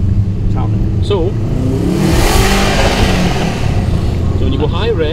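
A Subaru WRX with its dump valve deleted and a blanking plate fitted revs up and holds a loud, rising engine note close by, with people talking over it.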